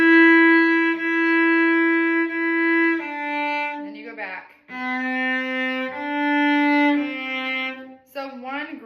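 Solo cello bowing sustained notes, with a shift from second finger on C up to second position on D, long held tones broken by short pauses, played alone and close.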